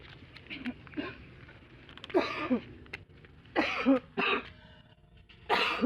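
A person coughs several times in short, harsh bursts close to the microphone, separated by brief quiet gaps.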